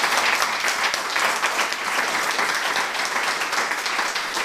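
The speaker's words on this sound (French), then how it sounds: "J'aimerais qu'on fasse un tonnerre d'applaudissements pour ces passants de parole." An audience at a talk on the history of the Great Lakes region and its massacres gives steady, dense applause. The clapping is even and sustained throughout, with no pauses and no voices over it.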